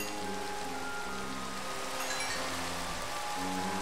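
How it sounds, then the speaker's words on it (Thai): Rain falls in Minecraft as a steady, even hiss that fills the whole moment, moderately loud and unbroken, with faint tonal background sounds and no one talking. "โอ้ฝนตก"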